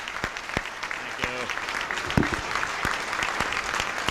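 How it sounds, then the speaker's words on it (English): A studio audience applauds as a comedian takes the stage, a sustained patter of clapping with a voice briefly heard over it. "Applaud all you want"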